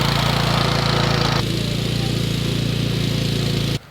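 A BCS walk-behind tractor runs steadily around the edges of a garden, its engine giving a loud, even drone that eases slightly partway through, then cuts off abruptly near the end.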